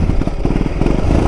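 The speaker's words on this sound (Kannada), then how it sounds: "ಗಾಡಿ ರೇಸ್ ಆಗ್ತಾ ಇದೆ" Close, continuous motorcycle engine chugging with rapid rhythmic pulses and some clatter, revving unevenly on a bike whose petrol isn't passing through properly during a weekend hill ride.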